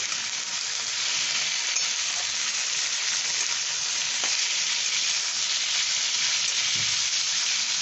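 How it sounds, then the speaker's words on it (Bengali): Potatoes and pointed gourd frying in a pan give a loud, steady close sizzle throughout, with occasional faint spatula scrapes as they are stirred and no talking. "এবার একটু নাড়িয়ে দিচ্ছি"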